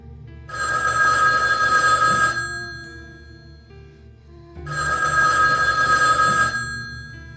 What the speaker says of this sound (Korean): 오래된 다이얼 전화가 울렸다.